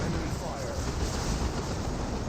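Grenade launcher barrage in Dawn of War 2 (Elite Mod), a dense, continuous rumble of blasts and fire sustained evenly throughout, with voice commentary over it.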